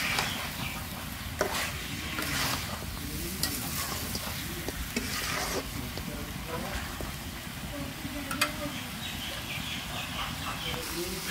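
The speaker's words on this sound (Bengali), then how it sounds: "এভাবে ভাজা ভাজা করলে মুরগির মাংস কিন্তু শক্ত হয়ে আসে আর খেতেও ভালো লাগে" Chicken pieces sizzle steadily in hot oil in a pan while a utensil stirs and scrapes them in irregular strokes, close and constant, with a voice speaking over the cooking.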